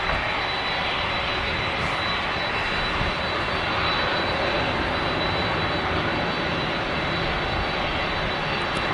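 A Ryanair jet airliner takes off from Manchester Airport bound for Bordeaux, a loud, continuous broadband engine roar that holds steady throughout with no voices.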